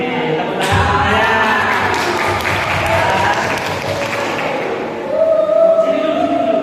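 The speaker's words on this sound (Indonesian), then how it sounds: "tepuk tangan semuanya" Junior high students at a school orientation clap together in a dense burst of applause that rises quickly and holds for several seconds, then gives way to a voice speaking over fading claps and room noise.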